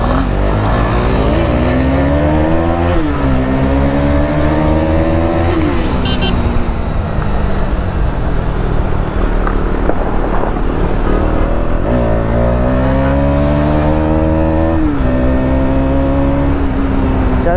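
A KTM Duke motorcycle, 390 or 250, ridden fast over a broken, potholed road, its engine revving and rising in pitch through several gear changes, loud and close throughout with rough road noise underneath.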